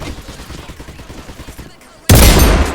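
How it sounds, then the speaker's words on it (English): An AW50 rifle fires in the Roblox game Operation One, a single loud, sharp shot near the end that rings out after quiet background noise. "that gun sounds amazing"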